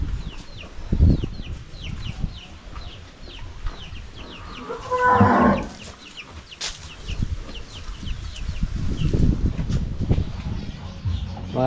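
Farm cattle, Batangas-bred cows, let out one drawn-out moo midway, while chickens cluck and rustle steadily in the background.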